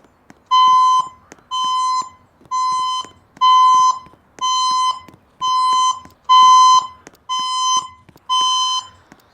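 A building fire alarm under test sounds a loud, close, repeating electronic tone, nine even bursts of about a second each separated by short gaps, with no voice heard during the pattern.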